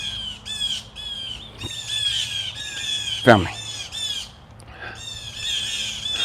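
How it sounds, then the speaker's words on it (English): Birds squawk and caw in a series of harsh, crow-like calls repeating through the moment, with one sharp louder burst near the middle, while a person speaks briefly. "These birds going in."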